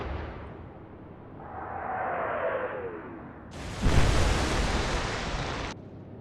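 Naval gunfire in the Atlantic Fleet game: a rising whoosh of an incoming shell, then a loud, broad blast that sustains for about two seconds and cuts off abruptly, with no voices.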